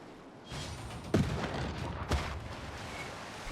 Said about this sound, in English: we got another field cannon